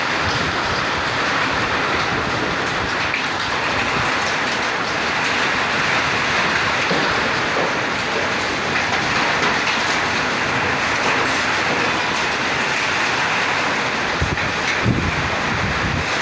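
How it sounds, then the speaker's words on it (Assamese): Strong wind roars steadily with rain pouring down, a dense, continuous rushing noise throughout with no voices. "এনেকুৱা বতাহ বৰষুণ দুইটা লগতে আহি গৈছে চাওক"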